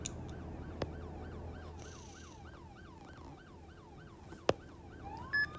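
Police car siren in the Roblox-style game ER:LC, a repeating wail with regular rising-falling sweeps cycling steadily, heard alone at moderate level with a couple of sharp clicks.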